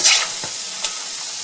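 Pork belly fries in its own rendering oil, a close, bright, steady sizzle with a couple of short scraping stirs.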